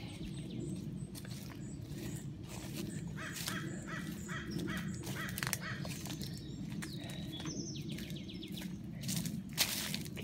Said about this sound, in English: Can you hear all those birds, guys?